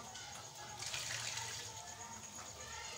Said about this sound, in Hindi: बस इतना पानी निकाल देती हूँ।